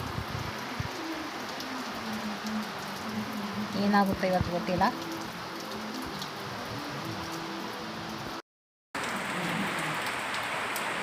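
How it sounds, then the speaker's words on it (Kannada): Steady patter of rain falling on surfaces, with a person briefly speaking over it partway through. "ಅಷ್ಟೊಂದು ಮಳೆ ಫುಲ್ ಕವರ್ ಆಗಿದೆ."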